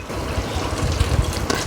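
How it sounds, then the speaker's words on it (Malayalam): About a cup of water pours into a pan of chickpea kurma, a continuous close trickling splash lasting under two seconds with no speech. "അപ്പോൾ കുറച്ച് വെള്ളം കൂടി ചേർത്തിട്ട് ഒഴിക്കാം."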